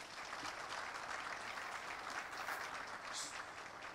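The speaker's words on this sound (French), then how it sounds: "cela mérite un tonnerre d'applaudissements" Audience applause at an event about renovating Ahmed Sékou Touré International Airport, a steady wash of clapping from a crowd that holds at an even level for several seconds, fairly faint and distant.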